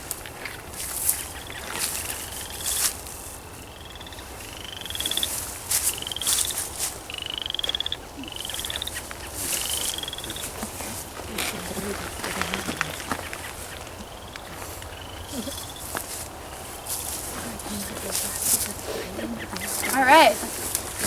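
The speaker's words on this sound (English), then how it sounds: "this one, the chorus frog, sounds a little bit like your finger on a comb, on a fine-tooth comb" Chorus frogs call in a repeated rising, raspy trill, several rounds spaced a second or two apart over quiet outdoor background, with occasional other croaks.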